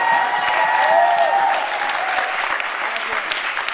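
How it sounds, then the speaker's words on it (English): A room full of people at a Relay for Life event applauding themselves, a loud, continuous wave of clapping with a few voices and whistles mixed in, easing slightly toward the end. "Give yourselves a round of applause."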